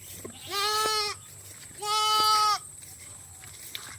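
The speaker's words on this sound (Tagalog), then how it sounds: "Ito po yung aking alagang kambing." A goat bleats twice, each call drawn out and wavering, close by against a quiet background.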